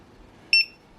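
A Prologic Bat+ fishing bite alarm gives two quick, bright electronic beeps as it is switched on, clear and close against a quiet background, with no talking.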